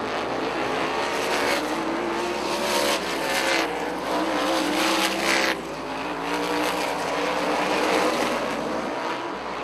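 A pack of sprint cars races through a heat race at Rockford, engines screaming in a loud, unbroken wall of sound with rising and falling passes and brief tire squeal.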